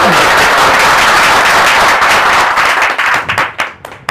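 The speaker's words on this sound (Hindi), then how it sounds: "एक बार आप जोरदार ताली बजाते हैं" A crowd at a training session claps loudly and continuously, a dense wash of applause that thins out and fades in the last second.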